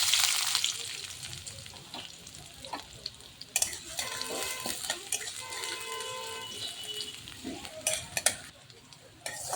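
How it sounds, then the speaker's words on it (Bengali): Dry red chillies and chopped onion sizzle in hot mustard oil in a kadai, a steady crackling fry with stirring scrapes and occasional utensil clinks. "তেলটা গরম হয়ে গেছে, এর মধ্যে দেব দুটো শুকনো লঙ্কা আর কিছুটা পেঁয়াজ কুচি"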